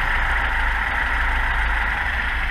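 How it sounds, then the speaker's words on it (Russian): A car engine idles steadily with a continuous low rumble and even mid-range drone, close and loud, with no talk over it. "Заводим, пожалуйста, машину."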